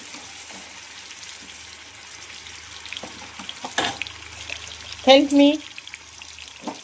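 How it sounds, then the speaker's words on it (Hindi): Chicken liver (kaleji) frying in hot oil on a large tawa, a steady low sizzle running throughout with a sharp clatter midway and a brief voice speaking over it near the end. "तेल हो गया गरम, अब उसमें डालेंगे कलेजी।"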